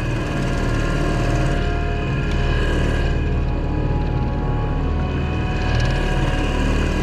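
Engine of a Jonny Boat fishing kayak idling while warming up at sea, a constant low droning hum close by, steady and unbroken with no talking.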